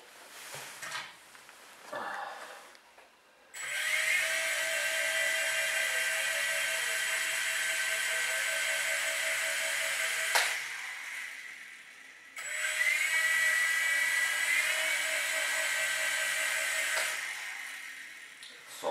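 A micro helicopter's tiny electric motor whines up to a high steady pitch under throttle, cuts off, then spins up again. Faint handling noises come before the first run.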